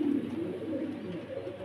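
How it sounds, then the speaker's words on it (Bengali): A young pigeon coos softly and close by in a short, low, continuous murmur, with no other sounds around it. "এটা কিন্তু বাচ্চা কবুতর"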